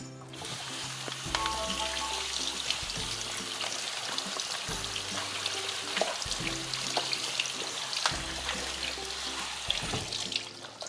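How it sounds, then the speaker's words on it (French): Potatoes are rinsed under a running kitchen tap, a steady close splashing hiss of water with brief clatters and knocks as they are handled, and no one speaks. "donc je vais passer mes pommes de terre sous l'eau"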